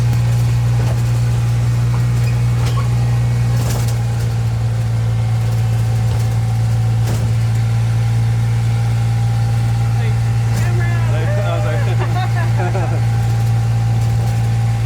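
A car engine drones steadily on the drive up to the USS Lexington aircraft carrier in Corpus Christi, a loud, constant low hum close by with faint rattles and brief clicks layered on top.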